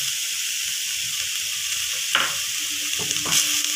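Coconut and semolina frying together in a pan are stirred with a steady sizzle, with a few sharper scrapes of the spoon against the pan near the end.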